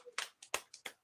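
A man claps or smacks his hands, six sharp slaps in about a second, loud and close with a quick uneven rhythm and no talking.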